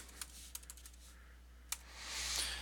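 A handful of light computer keyboard keystrokes, spaced and clicky, close and fairly quiet as a name is typed into a text box in Adobe InDesign CC 2015, with a soft rustle toward the end.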